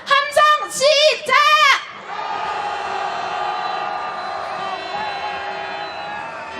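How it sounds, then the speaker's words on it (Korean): Protest crowd at a candlelight rally marching from the presidential office to the residence, shouting together in a loud collective roar for about two seconds, then a sustained, steady cheering din that carries on to the end. "분노를 담아 함성 한번 질러보겠습니다"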